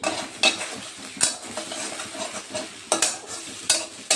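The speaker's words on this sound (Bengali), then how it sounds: "একটু এগুলো ভেজে নিচ্ছি, তারপরে দিচ্ছি।" Spices fry in a pan for a Bengali fish-head muri ghonto, a soft sizzle broken by sharp scraping and clinking strokes of a spatula stirring at irregular intervals.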